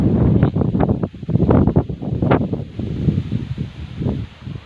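Dry wind gusting across open countryside and buffeting the microphone in rough, uneven rushes, with leaves rustling faintly underneath. The noise is loud and close and carries no speech.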